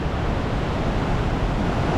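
Ocean waves crashing on rocks with steady, heavy roaring surf filling the whole stretch, loud and close with no break or voices.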